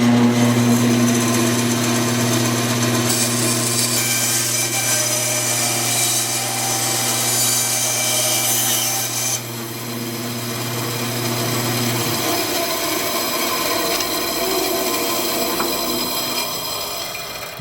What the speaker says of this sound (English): get ready to cut the shape out on the bandsaw